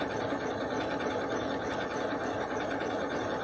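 A quiet, smooth sewing machine stitches steadily, a close, even mechanical whir with a fine rapid rhythm that runs unbroken the whole time.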